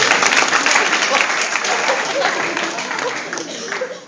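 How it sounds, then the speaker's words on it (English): Loud, dense applause from a college audience at a hypnotist's stage show, a continuous close wash of clapping that tapers slightly toward the end, with no clear talk over it. "Give him a round of applause for trying this out."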